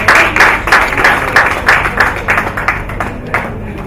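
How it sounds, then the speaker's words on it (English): Near, steady clapping from an audience at an awards ceremony greets the finalists, with the individual claps spaced evenly in a loose rhythm before tapering off. "A round of applause, ladies,"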